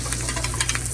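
A steak sizzles loudly and steadily in a pan while butter, thyme and garlic are basted over it, with a dense, close frying hiss throughout.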